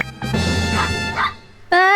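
Dog giving a couple of close, loud barks and yips with a short whining tail, then a sharp higher yelp at the end.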